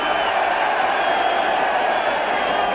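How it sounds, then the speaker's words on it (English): A rugby league home crowd at a Widnes v Halifax playoff match jeers, a broad, steady roar of many voices filling the stadium without a break throughout. "the home crowd may be jeering at that"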